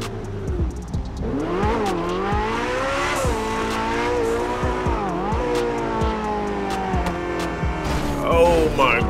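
A Porsche driven in the video game GTA 5, its engine revving up and down through repeated gear changes with occasional tire squeal, loud and close throughout, with a voice talking over it.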